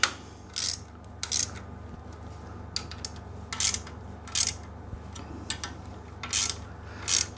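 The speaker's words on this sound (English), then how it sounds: "we'll take our 8mm socket and tighten up the 4 bolts on the bottom here." An 8mm socket ratchet tightening bolts on the bash plate of a KTM 390 Adventure motorcycle, a series of short, crisp clicking bursts spaced irregularly over a low steady hum.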